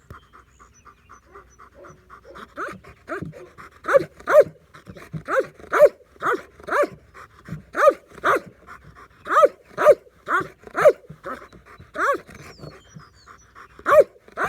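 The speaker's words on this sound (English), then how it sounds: "You see the barking get interrupted by him looking for oxygen" A dog in ball drive training barks in short repeated bursts broken by rapid, heavy panting, the rhythmic breaths and barks close and clear with no talk over them.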